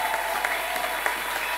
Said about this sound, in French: Est-ce qu'il y a quelqu'un qui peut réchauffer un peu cette salle avec ses acclamations?